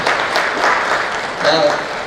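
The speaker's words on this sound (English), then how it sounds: "Let's give Ranbir a big round of applause once again, ladies and gentlemen." Audience at a film press meet applauding actor Ranbir Kapoor, a steady patter of clapping across the hall with voices mixed in and a brief swell near the end.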